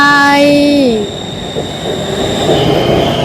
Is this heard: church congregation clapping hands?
no